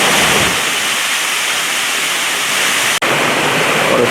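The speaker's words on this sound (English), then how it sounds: "Yeah, I love a nice waterfall." Steady, loud rush of a waterfall at the Ozark Highlands exhibit of the Oklahoma City Zoo, continuous close-up splashing roar with only a momentary break near the end.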